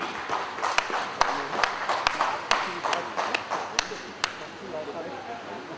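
An auditorium audience claps at a Rajasthan journalists' conference, a sparse run of sharp individual claps and slaps over murmuring crowd noise and a speaking voice, thinning out toward the end.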